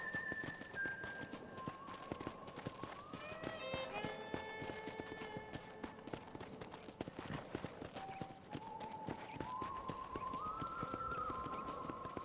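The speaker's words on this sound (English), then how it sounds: "let's see if you can still ride a horse" Horse hooves clip-clop in a steady riding rhythm in Red Dead Redemption, moderately loud and continuous under tonal game music with rising and falling melodic lines.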